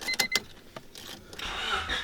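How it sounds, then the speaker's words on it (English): A 1997 Honda Civic Coupe with a 5-speed and titanium exhaust starts up, giving a short cranking burst followed by a rising, moderately loud engine catch, heard alone. "That's not that much louder on startup."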